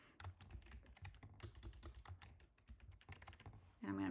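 Rapid clicking of computer keys being typed, a steady patter of close keystrokes that runs almost the whole time, with a brief louder burst of other sound at the very end.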